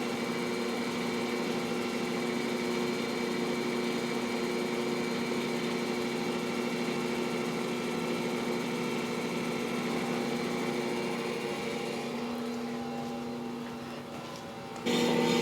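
An electric stand mixer runs steadily on its mix setting, kneading dinner roll dough with warm liquid added, giving a continuous whirring motor hum with a mechanical rattle that shifts briefly near the end.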